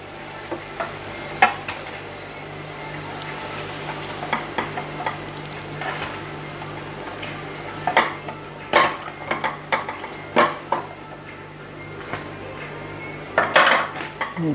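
Fried bread rolls are lifted from a hot kadhai onto a tissue-lined plate, with metal utensils scraping and clinking in scattered close taps over a faint frying sizzle, no talking.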